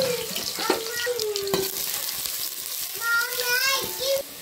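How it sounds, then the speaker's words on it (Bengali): Onions sizzle steadily in hot oil with whole garam masala in a cooking pot, punctuated by scraping stirs and clinks of a spoon against the pot. "পেঁয়াজটা দেখুন ভালোভাবে ভাজা হয়ে গেছে"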